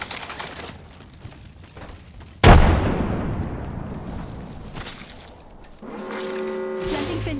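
A frag grenade explodes in a video game with one sudden loud blast, followed by a long rumbling decay that fades over several seconds. Other game sounds start near the end.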